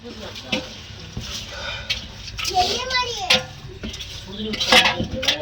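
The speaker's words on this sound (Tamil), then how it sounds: "உப்பு போட்டு நல்லா கலக்குங்க." Salt is stirred into the masala for a 2 kg chicken dum biryani in a pot, with metal clanks and scraping of a spoon against the pot while children chatter nearby.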